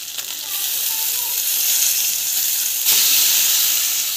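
Ground masala paste for a chicken curry sizzles loudly and steadily in a hot pan, a broad hiss that swells midway as more is added or stirred, with faint talk underneath.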